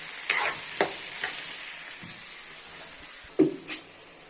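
Broad beans curry frying in a pan with a steady sizzle throughout, broken by several sharp scraping stirs of a spoon, the loudest coming near the end.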